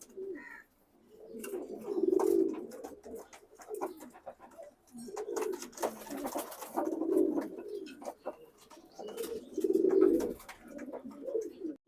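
Racing pigeons cooing close by in repeated low, throaty phrases that swell and fade in bursts, with faint chirps and rustles in a quiet setting.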